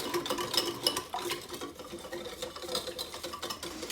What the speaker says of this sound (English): Going to go ahead and give that a quick stir.